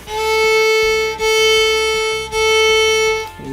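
A viola sustains one steady low open-string note in three long bow strokes, each using about a quarter of the bow and separated by a brief rest, played alone and close.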